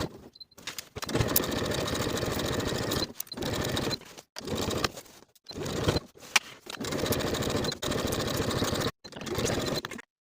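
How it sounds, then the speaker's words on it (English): A sewing machine stitching the side seams of palazzo pants with a half-inch seam allowance, loud steady whirring runs of a few seconds each, separated by short silent pauses where it stops and restarts. "we'll pivot to sew the remainder of that side seam with a 1/2 inch seam allowance all the way to the bottom of the garment"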